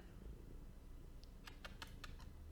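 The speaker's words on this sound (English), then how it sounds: "Can you hear him purr?" A pet cat purrs faintly as a low, steady rumble close by, with a few soft clicks and taps partway through and no talking.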